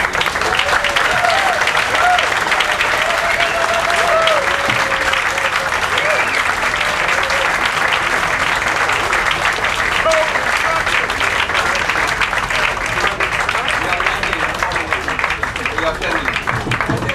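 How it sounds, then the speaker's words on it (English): A banquet audience in Paris gives sustained, dense applause for a prize honoree, a loud even wash of clapping with some crowd murmur mixed in for the whole stretch. "I would like you to join, if you agree with all this, in an applause for Sheila Zhazanov."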